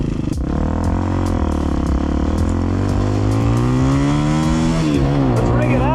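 A cheap 250cc EFI dirt bike engine revs hard while riding, its pitch climbing steadily and then dropping and rising again through gear changes, loud and close with wind rush over it.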